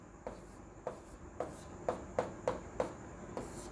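Pen strokes scratch across paper as a maths proof is written out, a sequence of about eight short, quiet scritches in an uneven rhythm, close by, with no one talking.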